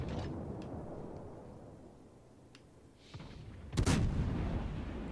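Ship guns fire in a naval battle video game: a single loud, close blast followed by rumbling, after a stretch of low droning background noise.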